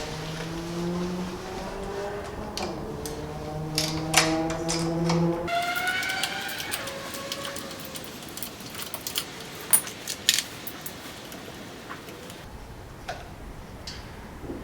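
Head nuts being loosened from the studs of a Case 446 tractor, with rapid ratchet clicking and tool squeaks up close, followed by scattered metallic ticks, clinks and handling noises.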